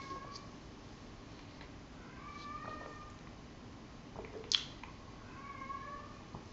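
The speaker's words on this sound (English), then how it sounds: "you'll hear my cat meowing in the background" A house cat meowing faintly in the background of a quiet indoor room, several soft, drawn-out meows scattered across the stretch, low and distant.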